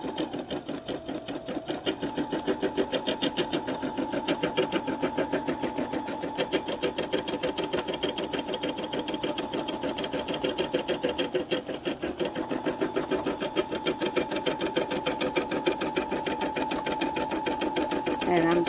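An embroidery machine stitching a black Eye of Horus design on 100% cotton with tearaway stabilizer, running in a fast, steady mechanical needle rhythm throughout at close range.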